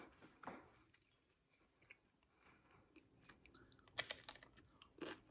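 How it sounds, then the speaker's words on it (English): Quiet, close chewing of baked sweet potato chips, with soft scattered crunches early on and then a sharper cluster of crisp bites toward the end. "So when you bite into it, you get that satisfactory crunch thing."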